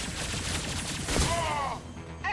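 Gunfire erupts in the Mass Effect 2 game as a dense, continuous burst of shots over a noisy battle backdrop, followed by a brief whooshing sweep.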